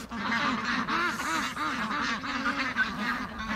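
Pastured poultry flock of geese and ducks calling close by, repeated honks and quacks overlapping in a busy, continuous chorus outdoors.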